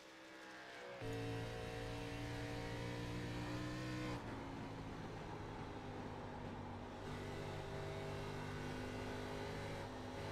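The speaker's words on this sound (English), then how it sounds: "Listening to that throttle response of the 51" An ARCA race car engine in a sim racing game at Indianapolis roars loudly and steadily, dipping briefly as the throttle lifts and then pulling back up to a sustained high-revving drone.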